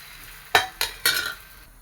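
Thin, loose batter hits an oil-brushed hot pan in three quick bursts of sizzle, each flaring loudly then settling into a soft hiss, close up with no voices.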